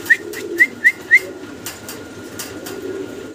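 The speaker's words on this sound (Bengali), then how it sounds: "বাচ্চা কবুতর" Young pigeons being sold at a pigeon market, giving four short, clear coos spaced close together in the first second and a half, then a quieter murmur of background noise.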